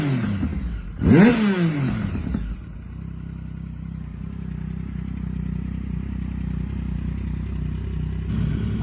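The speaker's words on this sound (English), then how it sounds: "That triple sounds just absolutely gorgeous." A three-cylinder triple superbike engine, likely a 1050, sweeps through one sharp loud rev that rises and falls, then settles into a steady, rumbling idle that carries on alone until a slight swell at the end.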